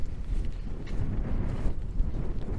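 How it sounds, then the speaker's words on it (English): Strong wind gusting near Glencoe in Scotland, a loud, close, continuous low rumble and buffeting against the microphone, with no voices. "The wind is too strong"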